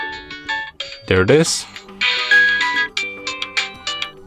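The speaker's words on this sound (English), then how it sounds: "When you select the fixed ringtones, as you can hear" A Maxcom MM724 mobile phone plays a fixed alarm ringtone, a bright melodic sequence of repeating electronic beeps and tones with a brief rising sweep near the middle, with a person speaking briefly over it.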